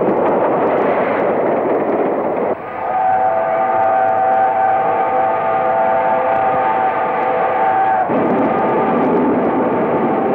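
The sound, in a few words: train running on tracks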